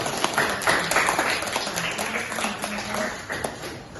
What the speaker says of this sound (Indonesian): Iya, aplaus dulu untuk